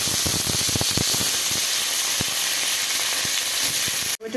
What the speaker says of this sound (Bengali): তার জন্য একটু সরষে ফোড়ন দিয়ে দিচ্ছি, দিব কাঁচামরিচ, আর ছেড়ে দিচ্ছি টমেটো।